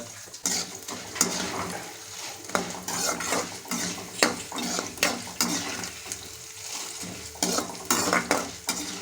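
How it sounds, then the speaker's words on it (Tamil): Fennel seeds and urad dal roasting in a hot pan, with steady scraping and stirring of a spatula against metal, light sizzling and irregular clanks throughout, close and clear without talk. "சோம்பு போட்ட பிறகு உளுத்தம் பருப்பு சேர்த்துக்கலாங்க. சேர்த்து நல்லா வறுத்து எடுப்புங்க."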